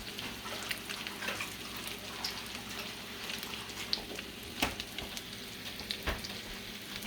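Salmon patties frying in a pan give a soft, steady sizzle with scattered pops and crackles, fairly faint and with no talk over it.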